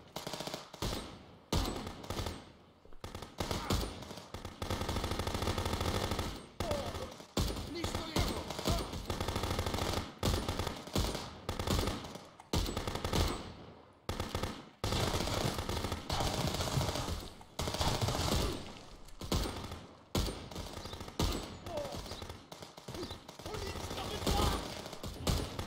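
Dense bursts of rapid automatic gunfire in the police video game Contraband Police, loud and nearly continuous with short pauses, firing in rattling volleys over about twenty-five seconds.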